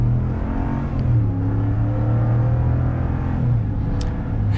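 A 2022 Dodge RAM 1500 Big Horn Night Edition eTorque pickup accelerating, heard from inside the cab as a steady engine drone that climbs in pitch as it gathers speed, with road noise beneath.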